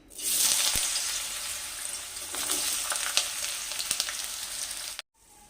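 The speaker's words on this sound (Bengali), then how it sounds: "তেল গরম হয়ে গেছে এবার ওই তেলের মধ্যে আমি আলুগুলোকে দিয়ে দিচ্ছি" Potatoes sizzling and crackling loudly in hot oil, a steady bright hiss with occasional pops, no voices.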